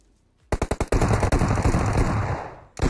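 Automatic gunfire from the video game Battlegrounds: a quick string of loud, close shots runs into a sustained burst, then pauses briefly before firing resumes.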